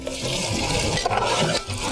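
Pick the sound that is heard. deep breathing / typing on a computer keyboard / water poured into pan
water poured into pan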